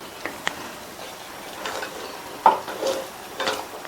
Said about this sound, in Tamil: இந்த பாலை கொஞ்சம் கொஞ்சமாக சேர்த்து நம்ம கிண்டி கொடுக்கணும்.